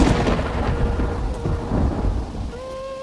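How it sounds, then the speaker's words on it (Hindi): Cartoon-style thunder rumbles over a steady roar of heavy rain, loud and continuous without pause, easing slightly near the end as a faint tonal sound enters. "अचानक बिजली चमकी और कुछ ही पलों बाद तेज बारिश शुरू हो गई।"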